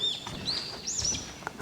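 Birds sing on Bongseosan mountain in Korea: a few high, thin whistled phrases and chirps, fairly clear and close, over a soft outdoor background with no talking.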